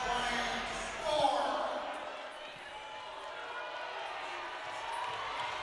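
A crowd in the arena at a UCLA vs UC Davis NCAA women's volleyball match cheers and roars in a broad wash of noise beneath an announcer's voice, swelling briefly before settling.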